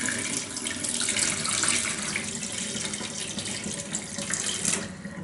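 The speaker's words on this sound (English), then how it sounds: "if I now pour off this water" Water pours off a cooking pot of foraged wild food with a steady, close, splashing rush that fades at the end.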